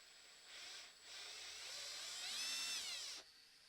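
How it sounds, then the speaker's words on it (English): A power drill bores into a very hard piece, giving a whining, buzzing drone for about three seconds that dips briefly and then rises in pitch before stopping abruptly. No one talks over it. "This is a really hard piece to drill."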